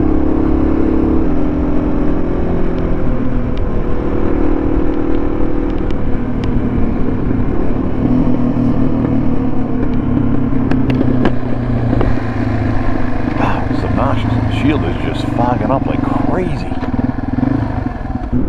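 A 1990 Yamaha TW200 motorcycle rides on snowy, icy roads below freezing, its engine a steady, loud drone with wind rumble throughout, and faint talk partly under it.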